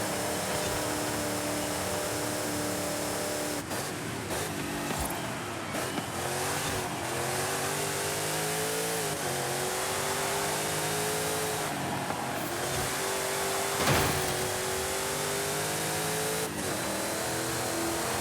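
Race car engines roar and rev continuously in Forza Horizon 5 racing, with rising and falling gear shifts, nearby rival cars and occasional tire squeal.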